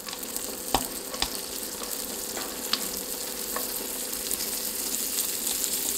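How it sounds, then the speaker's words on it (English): Salami slices frying in butter and margarine in a pan inside a wall tent in -34°C cold, a steady close sizzle with a few sharp pops and crackles, no talking. "I'm going to fry the salami."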